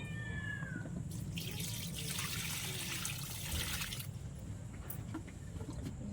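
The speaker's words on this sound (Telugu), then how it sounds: "ఇప్పుడు వాటరింగ్ చేద్దాం" Water is poured over plant seedlings, a soft splashing and trickling spray that swells for a few seconds and then tapers off, with faint outdoor background noise.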